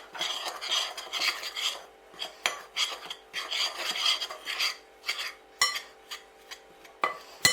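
A spoon stirs castor sugar, a beaten egg yolk and water in a bowl for a banana caramel tart, with close, repeated scraping and rasping strokes, some quick clinks against the bowl and short pauses between them, no talk.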